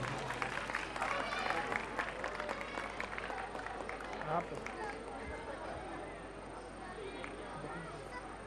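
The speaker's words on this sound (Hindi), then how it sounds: "जोरदार तालियां हो जाए इन बच्चों के लिए।" Faint, distant applause and crowd chatter fill a Durga Puja gathering as the audience claps for a children's group, a steady muffled patter lasting several seconds with murmuring voices mixed in.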